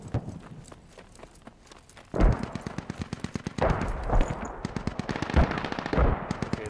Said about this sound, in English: I saw just some machine gun on the horizon